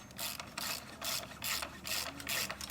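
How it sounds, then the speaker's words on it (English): Socket wrench ratcheting to tighten the rear axle nut on a Talaria Sting R electric dirt bike, heard as about six quick, rhythmic bursts of metallic clicking, close and clear. "Now we're just gonna throw a socket on there,"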